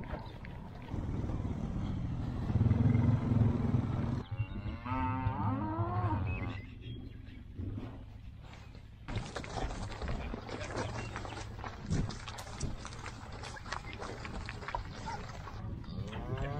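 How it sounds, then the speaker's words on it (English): Cattle mooing on a ranch where a herd of cow-calf pairs is being worked, several loud, drawn-out bellows near and farther off amid outdoor noise and scattered clatter. "It's time to wrangle up some cattle."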